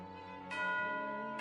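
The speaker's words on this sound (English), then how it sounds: "You hear the sound of a bell." Resonant bell tones in Genshin Impact signalling tea time, two sustained rings with a bright strike and a long humming decay, clear and alone with no speech.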